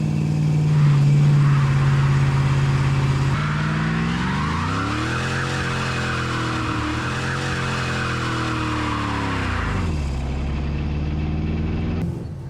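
A 1971 Plymouth Satellite test-driven after a rear end rebuild: a loud, close engine revs up steadily through first gear, rising and falling in pitch, with tire noise and a drop as it shifts near the end.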